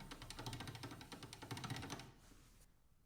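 A hand-cranked pasta machine cuts pasta sheets with its toothed cutter, giving a fast, rapid clicking rattle for about two seconds before it stops, faint and close with no talking.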